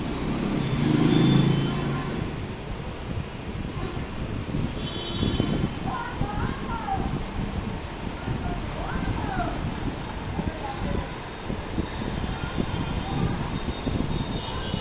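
Road traffic rumbles steadily past while someone crosses a road, with passing vehicles and wind noise, and voices talk faintly over the top throughout.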